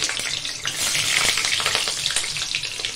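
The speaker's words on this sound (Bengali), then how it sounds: "কেন তেলটা এত ছেটকাচ্ছে বুঝতে পারছি না, সেজন্য বেগুনগুলো ছেড়ে দিলাম।" Eggplant and mixed vegetables dropped into hot oil for shukto, spattering in a loud, crackling, continuous sizzle with dense popping, heard up close and without speech.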